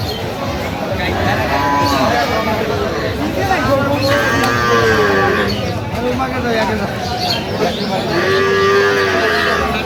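Dairy cows and calves at a busy village cattle market in Aftabganj, Dinajpur, moo repeatedly in long drawn-out calls, loud and near, over constant crowd chatter as people talk nearby.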